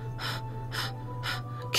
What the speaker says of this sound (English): A sharp inhale, like someone sucking air through their teeth.